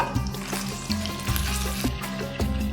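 Red meat sautéing in hot vegetable oil, a steady crackling sizzle with occasional clinks of a utensil against the pan.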